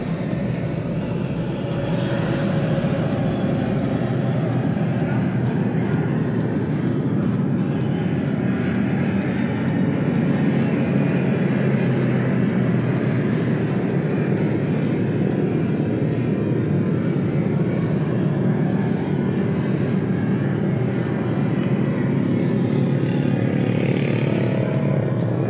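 A 2010 Honda CR-V Modulo with a 2.4-litre petrol engine idles steadily, a loud, even, continuous hum with a light mechanical whir, heard alone without talk.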